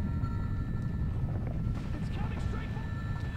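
A continuous low, rumbling helicopter drone in the video game Sniper: Ghost Warrior 2, with steady rotor thrum, loud and close, under faint higher electronic tones.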